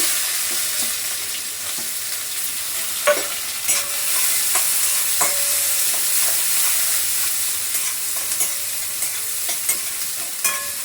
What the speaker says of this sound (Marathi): आणि कांदा परतून घेते